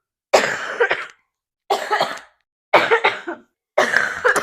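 Person coughing four times in a row, each a loud, close, raspy burst of several hacks separated by short silences.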